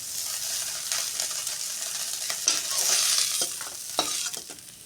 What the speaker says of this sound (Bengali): এই সাইড আমার ভাজা হয়ে গিয়েছে, অন্য সাইড ভাজার জন্য উল্টিয়ে দিচ্ছি